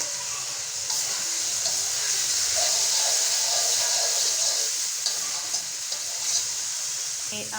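Cracked egg and chopped green chili frying with tomato in a hot pan hiss and sizzle steadily up close, a bright continuous spatter with small pops throughout.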